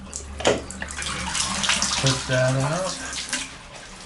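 A T2000 shower head runs water while the shower drains, making steady spray and splash noise throughout, with a voice speaking over it.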